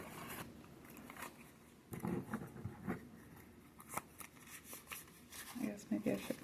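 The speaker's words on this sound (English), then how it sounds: "I guess maybe I should shuffle these." Tarot cards being shuffled by hand during a reading, giving quick bursts of papery riffling and snapping in short runs, mixed with a few soft spoken words nearby.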